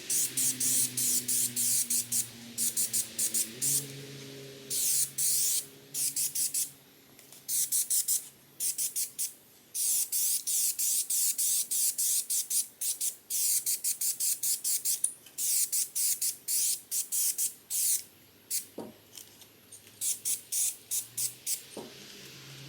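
Spray paint hisses onto parts of a 1969 Ford F100 truck door panel, coating them black in many short, close bursts with quick gaps between them and a few longer sprays, and no talk.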